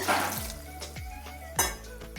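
Taro stem curry stirred in a pot with a little added water: a few soft scraping clinks of a spoon against the pot in an uneven rhythm, close and fairly quiet.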